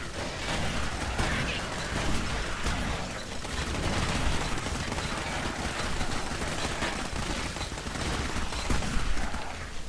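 Dense, continuous gunfire from Clive Barker's Jericho, a first-person shooter game: rapid overlapping bursts and pops that run without a break and stay loud and close throughout.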